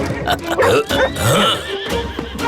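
A cartoon horse neighs in loud, shaky whinnies that rise and fall over a couple of seconds, close and prominent.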